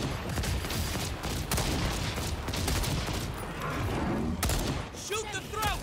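Rapid gunfire aimed at a dinosaur in the Second Extinction video game, loud and continuous bursts throughout with electrical effects near the end, under excited talk.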